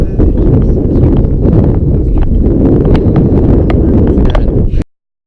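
Wind blows hard into a microphone outdoors on a Namibia safari tour, a loud, continuous rumbling buffet with rustling that cuts off abruptly near the end.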